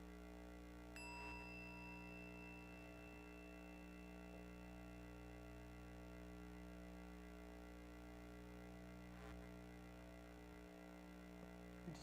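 A mindfulness bell struck once, a faint single ding with a long, slowly fading ring over a low background hum in a quiet room.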